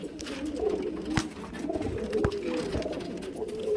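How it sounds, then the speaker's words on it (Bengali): A male white-and-green highflyer pigeon coos repeatedly at close range, its low rolling calls steady across the stretch with a few sharp knocks and clatters in the background. "এটা সাদা সবুজ পায়রা নর পায়রা"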